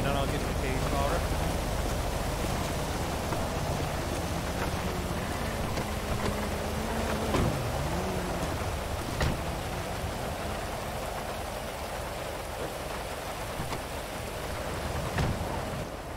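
Steady rain falling in a video game roleplay setting, a constant dense hiss that runs unbroken throughout, with faint low rumbles underneath.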